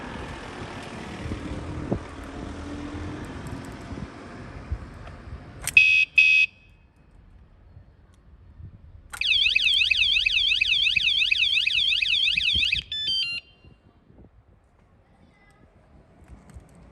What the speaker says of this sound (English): This alarm kit is very sensitive, so even a small touch will activate the first warning sound.